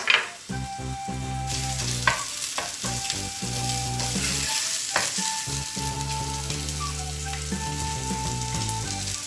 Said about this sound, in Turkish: kuyruk yağlarımız erimeye başladı